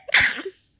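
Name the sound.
a person sneezing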